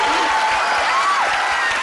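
An audience applauds warmly after a magic trick, with dense, close clapping throughout and a tonal sound and some talk underneath.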